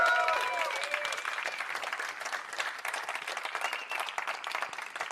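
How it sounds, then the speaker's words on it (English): Audience applause at the Big Bang keynote presentation of the Star Atlas Game State 2024 summit, a dense, steady wash of many hands clapping with a brief whoop near the start, sustained at even volume throughout. "let's hear a round of applause right now"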